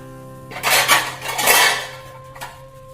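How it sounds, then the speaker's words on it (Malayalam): A metal lid clatters onto a pot of Kerala-style squid roast resting off the heat, a bright clanging scrape lasting about a second, followed by a lighter clink. "ഇനി 5 മിനിറ്റ് ഇതൊന്ന് അടച്ചു വെക്കുക."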